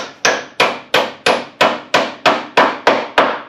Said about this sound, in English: I'm going to drive some nails along here, plus my screws